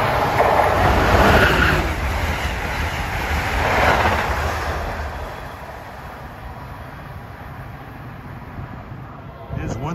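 An Acela high-speed train on the Northeast Corridor between Washington and Boston rushes past, a loud broad roar that swells twice and then fades to a lower steady rumble.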